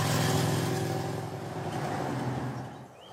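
Big-engined motorcycles revving hard along a winding country road near Paris, a loud continuous roar that swells, holds and then fades slightly as they pass.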